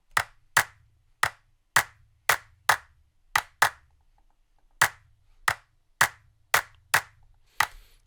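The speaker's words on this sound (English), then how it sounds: "it's a VST from Contact that gives you like different clap sounds" Layered, natural-sounding hand claps from a Kontakt clap instrument hit in a sparse, syncopated pattern, each a sharp crack with a short tail and a soft low thump beneath, with a brief gap partway through.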